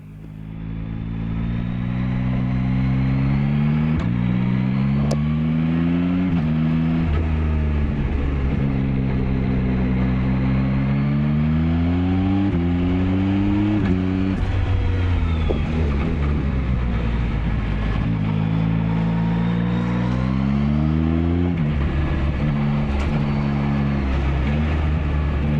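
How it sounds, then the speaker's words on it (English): Yamaha XSR 900 motorcycle with tuned intake and exhaust, ridden in Gran Canaria, climbing through the revs in repeated pulls and gear changes, loud and close with a steady throaty drone and no talking. "Yamaha actually tuned the intake and exhaust to enhance that soundtrack, so the induction noises resonate and harmonize across the rev range."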